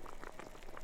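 A lidded pot simmering over an outdoor cooking fire in harsh weather, giving a soft, close bubbling with small irregular pops and a steady low rumble underneath.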